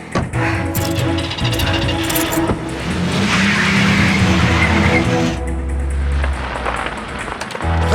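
A car engine runs loudly and close by throughout, with a rough, rumbling drone. A shift in tone partway through suggests the car moving or skidding, and no one speaks.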